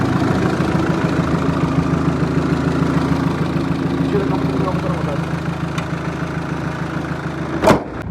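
Tow truck engine idling and running nearby, a loud steady low rumble throughout, ending with a brief sharp knock near the close.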